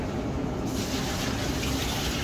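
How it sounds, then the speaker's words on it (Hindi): Water gushes steadily into flour for a large batch of pizza dough, about 2600 ml at room temperature poured onto 5 kg of maida, a continuous close splashing pour. "पानी डालेंगे सबसे पहले।"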